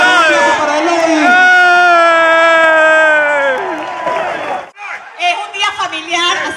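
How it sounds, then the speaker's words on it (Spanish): A crowd at a Panamanian carnival event in Dallas cheers and shouts loudly, with sustained whooping voices that break off and then return in rougher, choppier bursts of cheering. "El primer aplauso para Eloy!"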